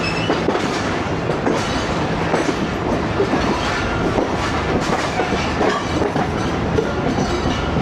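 Tezgam express train rolling through the yard into the main platform at Karachi Cantt railway station, a steady loud rumble of wheels with rhythmic clickety-clack over rail joints throughout, no voices.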